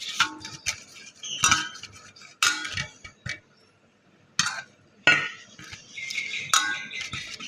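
A utensil scrapes and clinks against a metal pan in irregular bursts, stirring masala paste with water, close up, with short pauses between strokes.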